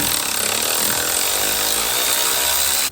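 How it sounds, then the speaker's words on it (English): A freshly refurbished Milwaukee electric ratchet with a decent battery runs continuously at close range, a loud, strained whirring grind that holds steady for a few seconds before cutting off abruptly. "This is a freshly refurbished Milwaukee electric ratchet with a decent battery in it, and it sounds unhappy."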